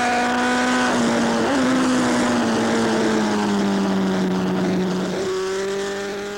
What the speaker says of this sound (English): I'm your race commentator flying above the track in this Jet Ranger helicopter